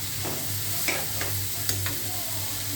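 Bitter gourd fries in a pan with a soft continuous sizzle, while a utensil stirs it in several light scraping strokes.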